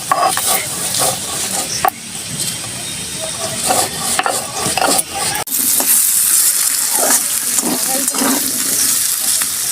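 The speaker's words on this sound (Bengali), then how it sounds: "আলুটা নিয়ে লাল লাল করে ভেজে নিই" Potatoes sizzle and crackle in a hot pan while a utensil scrapes and stirs, a steady frying hiss throughout.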